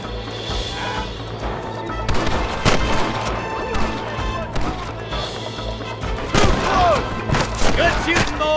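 Sporadic gunshots and crashing impacts in the Western video game Red Dead Redemption, loud bursts scattered over a dense bed of game music and ambience, with brief voice lines in between.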